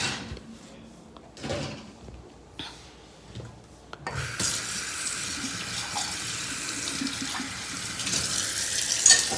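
Tap water runs steadily while a sauce shaker is washed at a kitchen sink, following a few brief clunks and handling knocks; the water noise is continuous and fairly close.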